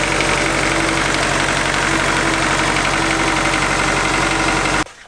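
Turbocharged Honda D16 engine in a Del Sol idling just after its first start, a loud, steady, rough mechanical drone close by, cutting off abruptly near the end.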